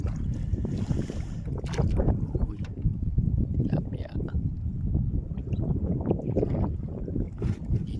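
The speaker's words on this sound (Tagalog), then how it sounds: "Medyo mahangin kaya inaanod" Steady wind buffets the microphone with low rumbling gusts, outdoors on open water, with faint voices mixed in.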